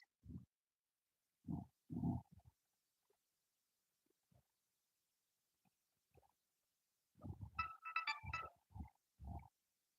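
Phone notification sounds go off in a quick burst of bright, overlapping chimes after scattered short low thumps, amid quiet stretches in an indoor crochet session; no talk.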